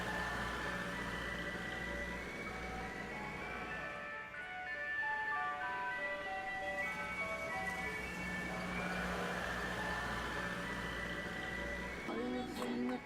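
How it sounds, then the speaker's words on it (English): Ice cream truck jingle, a melodic tune playing continuously over a low engine drone, with passing vehicle noise underneath. "I'll bring her back in that ice cream truck."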